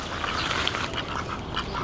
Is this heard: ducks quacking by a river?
yes